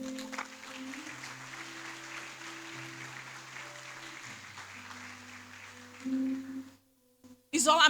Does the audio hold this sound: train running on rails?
no